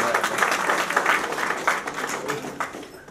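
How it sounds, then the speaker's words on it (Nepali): At a Lions and Leo Club installation ceremony, a standing audience applauds, a lively, uneven patter of many hands with a few sharper claps, moderately loud and tapering near the end. "उठेर ताली बजाइदिनु होला"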